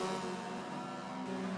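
A Mazda RX-3 race car's engine in a Forza racing game, droning at a steady high pitch at moderate loudness for a brief stretch, with a slight shift in tone near the end and no voices.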